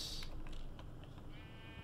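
Sheep bleating in the video game Minecraft, a short wavering bleat at the start followed by soft clicking and a faint creaky tone, all fairly quiet over a low background rumble.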